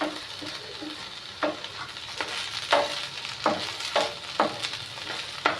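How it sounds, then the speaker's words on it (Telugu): Cumin seeds fry in hot oil for an okra chutney, a steady close sizzle with repeated sharp scraping clicks of a spoon stirring the pan, no voices. "దీంట్లోనే కొంచెం జీలకర్ర వేసేసుకుందాం. జీలకర్ర కూడా కట్ట వేగిద్ది"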